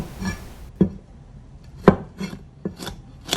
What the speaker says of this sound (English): Mince the garlic into small pieces.